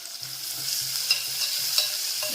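Leftover onions sizzle steadily in a hot pan while a utensil stirs and scrapes through them, close and continuous with no talking.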